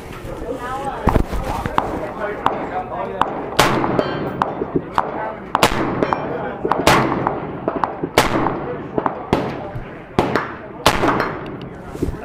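SIG Sauer MCX-Spear rifle fired at a SHOT Show range, about a dozen sharp, loud single shots spaced roughly a second apart, with other nearby range gunfire and someone talking in between.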